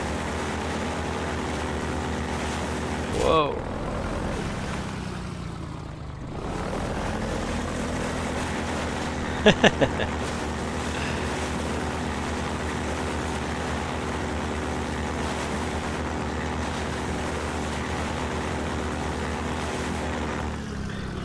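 A janky physics-driven airboat in Half-Life 2 fires up and keeps running, a steady loud propeller-engine drone that holds for most of the clip after a brief startup surge, with a short exclamation from a voice early on.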